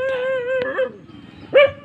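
An agitated dog outside a storm-damaged house gives a few loud, close, yelping barks with whiny, howl-like tones, separated by short pauses.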